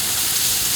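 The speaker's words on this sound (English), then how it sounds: "I'm just going to play with steam right now." A steamer blows a steady, loud, broadband hiss against a car's bodywork to loosen the glue beneath, continuous and close with no pauses.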